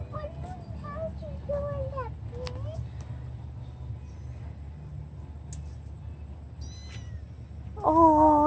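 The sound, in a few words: baby kitten meowing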